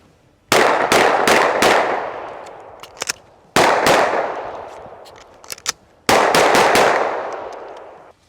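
Sharp, loud gunshots come in three quick strings separated by brief gaps during an emergency reload drill, each volley fired in rapid succession, with small metallic clicks of the magazine change heard in between.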